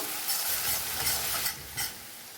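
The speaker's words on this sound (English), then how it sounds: "Add a bit of salt and cook till the onions turn light brown in color." Chopped onions sizzle and fry with salt in a pan while being stirred, a close, steady crackling hiss with a few soft scraping pulses over a couple of seconds, with no speech.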